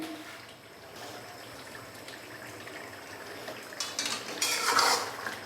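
Mutton karahi with garam masala is stirred in a pan, soft scraping and clinking of a metal utensil against the pot, growing louder and busier toward the end.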